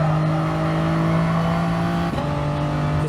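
A Group 3 race car in Gran Turismo Sport runs flat out at Autodrome Lago Maggiore, its engine a loud, steady high-pitched drone that dips briefly at a gear change and then carries on at full throttle.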